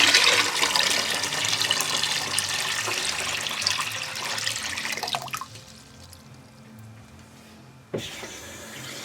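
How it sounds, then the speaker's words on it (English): Water runs into a big soup pot with a loud, rushing pour that gradually quiets and trails off, then a brief splash and renewed flow near the end. "you're going to pour some water in it"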